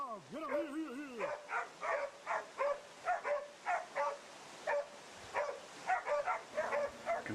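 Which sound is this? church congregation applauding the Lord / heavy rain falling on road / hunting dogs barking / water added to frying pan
hunting dogs barking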